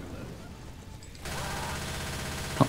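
Rapid automatic gunfire in the zombie shooter Left 4 Dead 2, a sustained rattling burst that kicks in partway through after quieter game noise, moderately loud with a sharp thump at the end.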